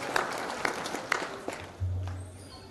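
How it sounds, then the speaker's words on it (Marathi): A devotional kirtan gathering claps to honor those who provided the afternoon snacks, a modest burst of applause with a few sharp claps that thins and fades out. "जोरदार टाळ्या वाजायच्या दुपारच्या फराळा ज्यांनी दिले त्यांच्यासाठी."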